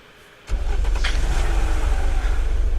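A car engine in the video game Unturned roars to life and holds a steady, loud, low drone as the vehicle drives, with no talk over it.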